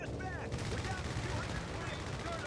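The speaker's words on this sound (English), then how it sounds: "German strafe suppressed the rifleman." Aircraft strafing in the Company of Heroes 3 strategy game lands as a dense, sustained rattle of gunfire and explosions filling the whole moment, with a commentator's voice briefly over the battle.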